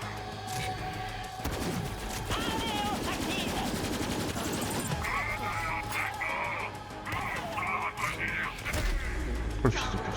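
Gunfire in the video game Borderlands 3: rapid bursts of automatic weapon fire mixed with game sound effects and music, continuing for several seconds with brief pauses between volleys and a player's voice at times.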